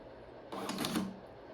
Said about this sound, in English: this printer just printed the paper, and we're gonna do that with the second one